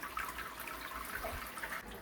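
Water flows steadily through the bottom of a Klarstein Brew Monk homebrew system, a constant close rushing and trickling wash with no speech.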